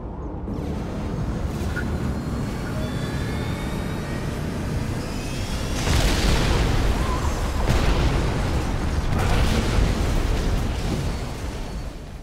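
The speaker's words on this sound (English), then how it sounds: "Using its catalyst cannon, the Mothership fires a jolt of energy down on the target, instantly destroying it" A Scrin Mothership's catalyst cannon in Command and Conquer fires down on its target and sets off a chain reaction, heard as a loud continuous rumbling roar with two heavier booming surges partway through.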